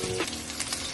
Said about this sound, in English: Frying up the onion, garlic, and pepper here.